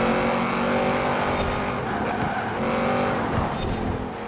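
An Audi RS7 slides and skids through a corner in a night-time racing video game, its engine droning loudly and continuously while tires squeal in short bursts near the middle and end.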